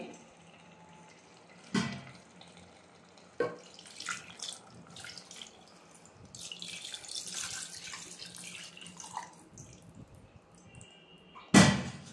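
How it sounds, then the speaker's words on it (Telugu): Water pours from a vessel into a pot of spiced mutton trotters curry, a broad splashing rush running steadily for several seconds, with a few sharp knocks of the vessel against the pot near the start and end. "ఇప్పుడు దీనిలో మనకి పులుసుకు కావాల్సినంత వాటర్ వేసుకోవాలి"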